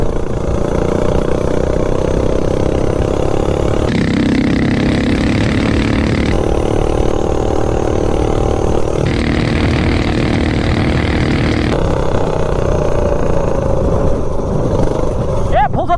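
Minibike fitted with a five-foot intake cruising uphill: steady, close engine drone with a rough clattering texture and slight shifts in tone, with someone talking over it throughout.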